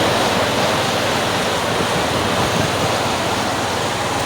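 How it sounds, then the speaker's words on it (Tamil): Water rushes through Kallanai dam near Trichy in a loud, continuous roar, a dense steady torrent close by with no voices heard. "பாருங்கள் தண்ணி எவ்வளோ தண்ணி ஓடுது"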